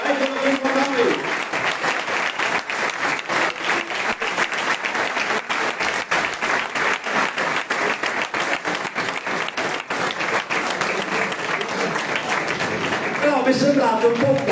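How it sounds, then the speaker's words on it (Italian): Crowd applause welcoming centre-right candidate Alberto Stefani at a Veneto regional election campaign presentation, loud sustained clapping from a sizeable audience, with a voice speaking briefly at the start and end. "Facciamogli un grande applauso, eccolo qui con noi!"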